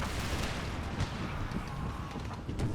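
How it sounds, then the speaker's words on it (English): Repeated cannon fire and artillery booms from a battle in Empire: Total War (Empire 2 mod, 13 Colonies campaign), a dense, continuous rumble of shots and impacts with no clear gaps, loud and steady throughout. "Those last cannon shells force them away."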